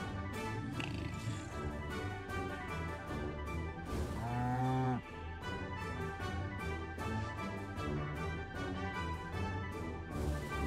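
Cows moo in the video game Orwell's Animal Farm over cheerful background music, one long drawn-out low moo standing out clearly in the middle.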